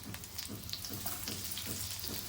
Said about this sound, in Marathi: मीडियम गॅसवरती खरपूस तळून घ्यायचे आहेत दोन्ही साईडनी